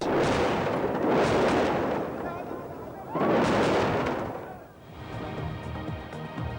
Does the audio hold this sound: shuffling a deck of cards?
no